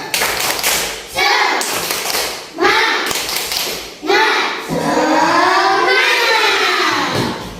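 A class of children claps in a rhythmic pattern in a primary classroom, chanting along, with bursts of cheering between the claps.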